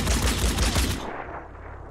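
Rapid automatic gunfire in the tactical video game Phoenix Point, a loud dense burst of shots lasting about a second, then a fading echo and tail.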